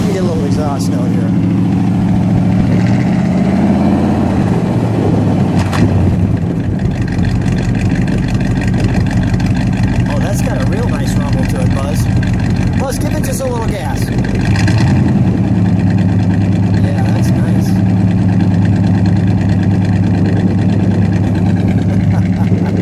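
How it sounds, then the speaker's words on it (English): A 1963 Studebaker GT Hawk Gran Turismo idles with a deep, rumbling exhaust note, loud and close, while the throttle is blipped into a couple of swelling revs before the engine settles back to idle. "Let me get a little exhaust note here."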